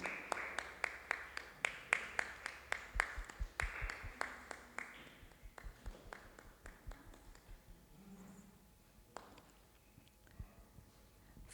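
Audience applause for a prize winner at a church worship evening: a crowd claps steadily, loudest at the start and then gradually thinning out into scattered claps.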